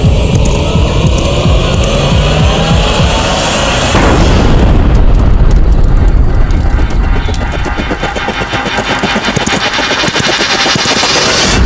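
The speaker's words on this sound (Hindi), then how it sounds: "ये कैसा धमाका?" A loud explosion effect in a historical TV drama about Maharana Pratap. It is a dense, roaring rumble that swells in the middle and carries on for several seconds with crackling debris and turbulence, and no voices are heard.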